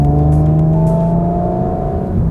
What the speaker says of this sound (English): It also opens up the sport exhaust